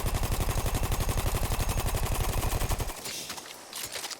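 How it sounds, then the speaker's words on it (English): A Parabellum machine gun in Battlefield 1 fires a fast, loud, evenly spaced stream of shots for about three seconds, then stops abruptly, leaving quieter ambient game noise. "I'll just shoot until I overheat"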